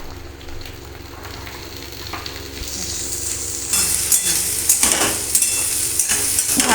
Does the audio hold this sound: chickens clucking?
no